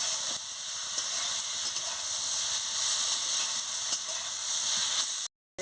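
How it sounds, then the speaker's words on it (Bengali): Pointed gourd fries with spices in a pan, producing a loud, even sizzle and hiss with occasional spatula taps and scrapes, then cutting off abruptly just before the end. "পটলটাকে ভেজে রেখেছিলাম দিয়ে দিচ্ছি, দিয়ে মশলার সঙ্গে ভালো করে কষিয়ে নিচ্ছি।"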